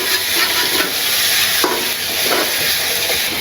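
Ingredients for bhuna khichuri frying in a pan with turmeric and salt, a loud, continuous close sizzle and hiss with occasional stirring scrapes, no voices.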